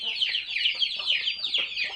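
Desi chickens on a farm cluck and squawk continuously in overlapping high, nasal calls, close by and fairly loud.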